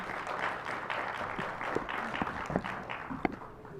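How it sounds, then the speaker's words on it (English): Audience applause at a public board meeting, a sustained wash of clapping from a crowd across the whole stretch, with a few louder individual claps standing out near the end. "I want to thank you again for the applause."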